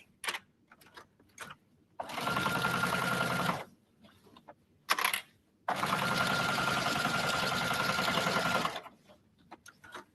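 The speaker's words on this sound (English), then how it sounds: "for this top stitching, you're going to want to sew right at the edge of the fabric" Two bursts of a sewing machine top stitching along the edge of a fabric sling bag, each a steady, close, humming rattle lasting a couple of seconds, with soft handling clicks and fabric shuffling in the pauses between.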